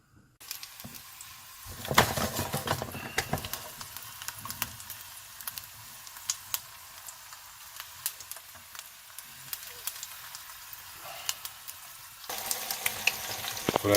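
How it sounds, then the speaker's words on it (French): A whole veal kidney sears in a hot frying pan, giving a steady close sizzle and crackle with scattered pops and stirring clicks that grows louder near the end. "Donc je fais chauffer ma poêle pour qu'elle soit assez chaude. Je vais le saisir."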